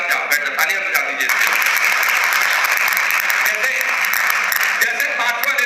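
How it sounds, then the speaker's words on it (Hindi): Seated audience clapping at a Hindi-language motivational business meeting, a continuous roomful of applause held steady for several seconds with some voices mixed in underneath. "बैठ तालियां बजा दीजिए"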